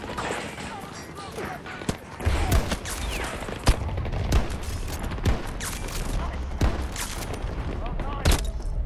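Rapid GVT sniper rifle shots crack out in Battlefield 2042, sharp reports spaced irregularly over dense game noise and explosions, with a voice talking throughout.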